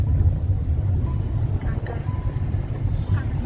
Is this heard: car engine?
yes